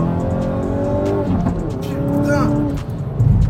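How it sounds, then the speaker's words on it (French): A 300-horsepower Hyundai i30N with its catalytic converter removed, heard while driving on the road: the engine drones and climbs through the revs in a loud, close rising tone, with brief tyre noise and a person talking over it. "Je vais déjà ouvrir les fenêtres pour que vous entendez un peu le son du moteur"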